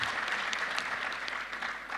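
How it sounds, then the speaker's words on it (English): Conference audience at a water utilities regulators' gathering in Uganda clapping to welcome the chief guest, a steady wash of many hands applauding in a hall, continuous and moderately loud. "Can we all welcome him with a round of applause?"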